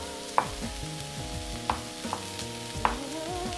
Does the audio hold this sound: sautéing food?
yes